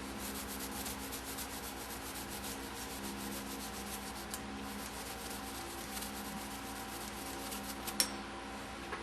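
Steady, faint rubbing as a microphone stud is cleaned during a rebuild of a Meyer E 47, a continuous close scratchy friction over a constant hum, with no talk.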